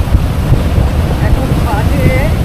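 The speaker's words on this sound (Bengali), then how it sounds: "মানে বেশ ঠান্ডা হাওয়া দিচ্ছে এখন।" Cold wind gusting outdoors at Manas National Park, Assam, during light rain, a loud continuous rumble buffeting the microphone, with faint whistling tones over it.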